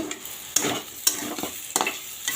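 Potatoes fry in a pan over a soft sizzle, broken by several rhythmic spatula scrapes about every half second.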